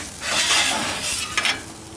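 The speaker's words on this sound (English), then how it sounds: "Give a good scrape down to the grill." A spatula scrapes across a hot cooking grill during taco prep, a broad rasping stroke up close, followed by a couple of sharper metallic scrapes near the end.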